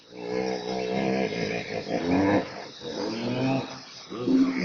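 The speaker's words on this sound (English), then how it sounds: "Hippo." A hippopotamus gives a run of deep, rumbling grunts with a throaty, growl-like texture, several pulses close together and fairly loud, with no other sounds.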